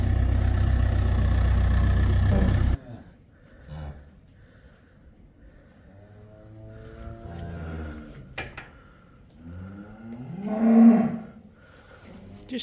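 In a farm lambing shed a calving cow gives one loud, deep moo at the start, then quieter groans and low bellows follow at intervals, with one more swelling moo later amid faint background shed noise.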